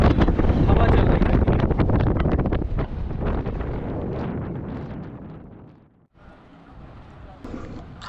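Strong mountain wind in Rudraprayag, Uttarakhand, buffets the microphone with loud, rough low rumbling gusts. They ease off, drop out briefly near the end, then return more faintly.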